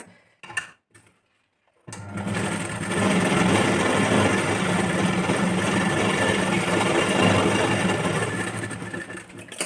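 Domestic sewing machine running steadily for about eight seconds, stitching a blouse sleeve lining half an inch from the edge, after a few brief handling sounds and a short pause; a continuous close mechanical whir.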